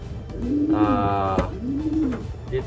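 A racing pigeon hen coos twice in low, rolling calls, separated by a short burst of brighter tonal sound, with faint background noise throughout.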